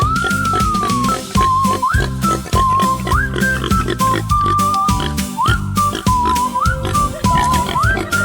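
Cartoon pig oinking in a kids' farm-animal song, with whistle-like squeals and oinks that repeat in a steady rhythm over a loud, bouncy music backing with a strong beat.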